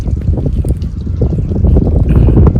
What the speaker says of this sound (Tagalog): kaya lang sobrang hangin po